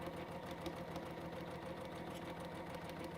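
A sewing machine stitches a zigzag in a steady, even mechanical whir with a fast rapid needle pulse, continuous and fairly quiet close by, with no talking.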